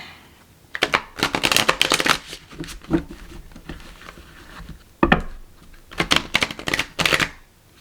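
A tarot card deck being shuffled in bursts of crisp riffling and flicking, pausing briefly between rounds, close and fairly loud with no voices.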